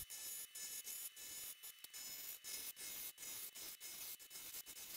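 A beech and wenge blank is being turned round on a wood lathe. A faint, steady scraping rasp from the cutting tool is broken by rapid rhythmic ticks, with no voices.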